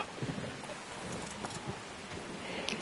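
Steady rain in the video game Ark Survival Ascended, a continuous soft wash of falling drops at even loudness with no voices.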